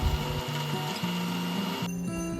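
A mixer grinder grinding coconut into a fine paste runs steadily with a droning motor whine and shifting tones as it churns, then the pitch changes near the end.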